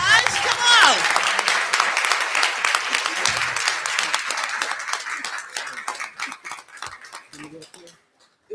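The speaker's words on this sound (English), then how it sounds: "Marcus, Dwayne, Darnell Bradley, give them a round of applause, you guys, come on." Applause for certificate recipients at a school district ceremony: close, brisk clapping from a group starts loud, then thins into scattered individual claps, with voices talking over the tail.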